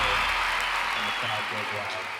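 A crowd roars wildly in a dense, continuous wash of cheering that gradually eases off, with a voice talking over it.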